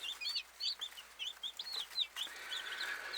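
Backyard homestead chickens cluck and chirp in quick, repeated bursts, a lively flock heard fairly close with no voices over it.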